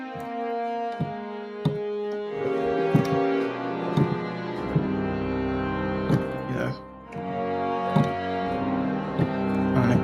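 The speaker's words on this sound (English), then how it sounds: "Now what I can do is I can increase the amount of reverb." Reverb return soloed from a strings recording plays as a washy, sustained ensemble tail with smeared note onsets and a soft diffuse bloom, moderately quiet and heard on its own.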